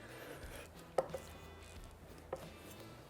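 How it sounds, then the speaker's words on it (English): A knife chops parsley and chives coarsely for pesto, giving three sharp, close knocks, two near together and one later, over a low steady background hum. "I'm going to chop it up real coarse"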